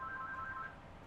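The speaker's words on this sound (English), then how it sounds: "Pardon that phone." A telephone rings in the middle of a talk, a steady electronic tone with two bright pitches that sounds alone, fairly faint, and stops near the end.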